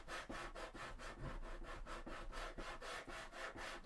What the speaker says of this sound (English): I'm just sanding some of this.